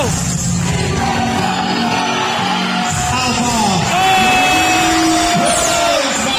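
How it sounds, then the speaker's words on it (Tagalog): Friends shout, whoop and cheer loudly and continuously at a Beyblade match, a dense crowd-like roar of raised voices with a few long yells rising above it. "Sigawan na mga kaibigan!"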